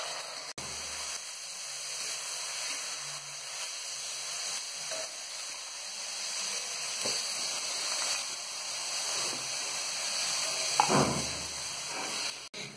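Rice frying with onions in a kadhai for matar pulao, giving a steady, soft sizzle and hiss that continues throughout with a few small stirring clinks and no voices.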